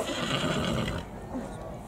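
A horse whinnies, a loud drawn-out call lasting about a second that fades into quieter sounds and faint background noise.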